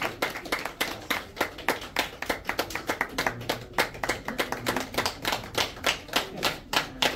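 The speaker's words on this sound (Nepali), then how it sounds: "तालीले सम्मान गरौँ।" Audience applause at a scholarship and award presentation ceremony in Nepal: a steady run of sharp, closely spaced hand claps lasting several seconds, fairly near and without voices over it.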